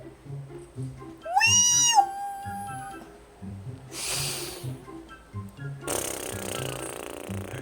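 A single short, high meow rises out of quiet background noise, followed later by bursts of rustling and shuffling.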